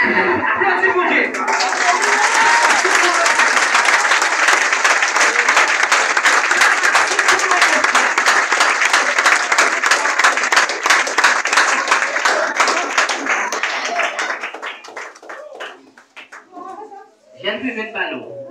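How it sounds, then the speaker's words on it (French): Church congregation applauding during a worship service, a long, loud, sustained wave of many hands clapping that fades toward the end, with voices calling out beneath it. "Applaudis mon Dieu."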